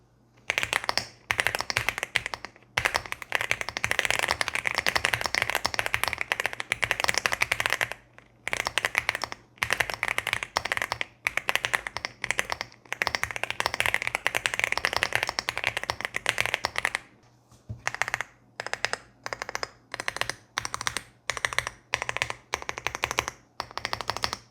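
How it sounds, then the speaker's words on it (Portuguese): Someone types steadily on a Leobog A75 75% keyboard with factory-lubed linear switches and stabilizers, producing dense, rapid clacking in long bursts broken by brief pauses, close-up and loud with no voices. "esse aqui é um switch realmente muito gostoso de se digitar"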